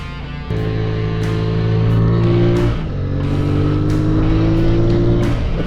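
A QJ Motor SRV 550 motorcycle engine pulls hard through low and mid revs, a loud steady drone climbing in pitch, dipping briefly at a gear change, then rising again, with wind rush throughout.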